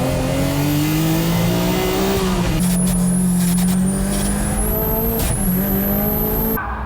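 A Nissan Silvia S15 and a Nismo GT-R race hard on a circuit, engines screaming at high revs close by, with gear changes shifting the pitch and a sustained loud drone throughout.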